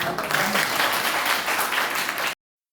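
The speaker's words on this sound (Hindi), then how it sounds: "एक बार आपकी ताली बजे" An audience claps loudly and steadily at a Hindi Diwas event, a full crowd applause that runs evenly before ending abruptly.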